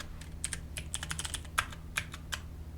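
Typing on a computer keyboard: quick, irregular clicks and clacks of individual keys over a low steady hum, close and moderately quiet, no talking.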